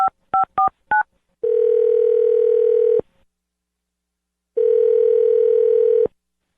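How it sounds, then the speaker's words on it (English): Four quick keypad beeps as a phone number is dialed, followed by two long steady ringback tones separated by a pause of silence, loud and close. "I'm going to dial her phone number right now"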